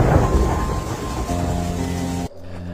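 Steady rain pours while thunder rumbles deep and loud, backing a narrated horror story as two people dash into an old palace to escape the downpour; the storm continues without any voice over it.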